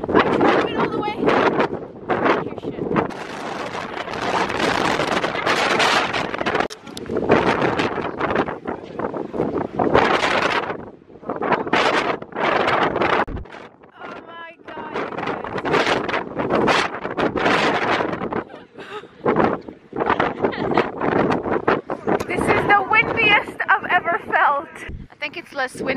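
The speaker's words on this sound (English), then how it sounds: "The wind is too strong." Strong gusty wind buffets the microphone outdoors in Iceland along the Golden Circle, roaring in loud bursts with brief lulls, while voices talk intermittently through the gusts.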